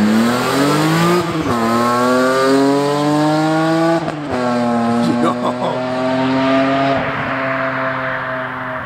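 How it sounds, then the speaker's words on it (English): BMW M3 driving past outside and accelerating hard, loud engine note climbing through gear shifts with brief dips between, close and strong throughout. "It's always cool to see your car driving from the outside."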